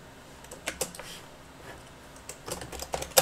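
Light keystrokes tap on a computer keyboard in short irregular bursts, quiet and close, with no talking.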